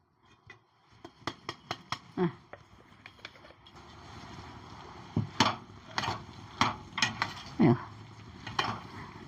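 A spoon clinks and scrapes against a bowl while ground boondi powder is mixed for laddu, a run of sharp, irregular taps and scrapes at close range.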